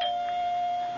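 A doorbell rings at the front door in an old-time radio drama, a steady sustained chime tone filling the short moment with no talk over it.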